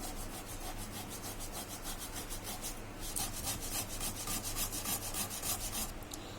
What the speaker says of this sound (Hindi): सबसे पहले हम आलू को ग्रेट कर लेंगे।